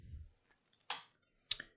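Keys tapped on a computer keyboard give a few sparse, light clicks, two distinct strikes close by and otherwise near silence.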